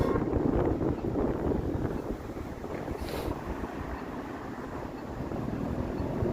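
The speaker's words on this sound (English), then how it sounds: "It's going to be windy as hell." Wind sweeps across the Prince Edward Viaduct bridge in Toronto on a bitterly cold evening, a loud, constant rushing buffet against the microphone with no voices.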